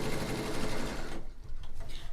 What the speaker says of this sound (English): So we'll quickly sew this along.